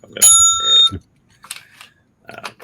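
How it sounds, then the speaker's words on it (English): A bright bell rings twice in quick succession, loud and close, followed by brief faint sounds and quiet. "I'm gonna ring the bell for that one."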